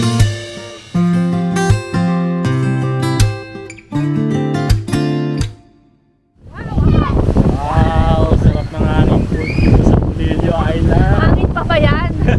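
Strong wind roars against the microphone on a trip to Polillo Island in Quezon during a low-pressure spell. It comes in after a short stretch of music as a loud, constant buffeting rush with voices faintly underneath.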